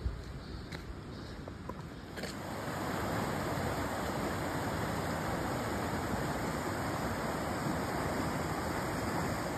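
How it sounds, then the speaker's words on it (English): Water rushes and burbles steadily like a flowing stream, swelling fuller after a couple of seconds, with a few faint clicks at the start. "You can hear running water."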